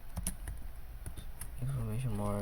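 Quick clicks of typing on a computer keyboard tap out in irregular bursts, then a voice begins speaking over the last few keystrokes.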